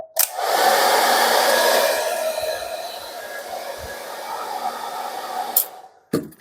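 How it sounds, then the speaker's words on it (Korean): A hair dryer heats a Galaxy Tab S6 Lite screen during a glass repair, blowing steadily at close range, a loud continuous airy whoosh with a faint hum, switching off near the end. "항상 말하지만 그 액정 중간쯤에 이렇게 드라이기를 열을 주시면 안 되세요"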